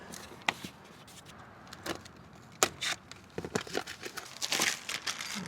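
Packing stuffing rustles and crinkles as it is pulled out of a box holding a Lexland A-pillar grab handle kit for a 4th-gen Toyota Tacoma, with irregular sharp crackles and crunches up close.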